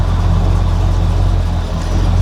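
A carbureted car engine idling at a stoplight, a loud, steady low rumble close by with no talking.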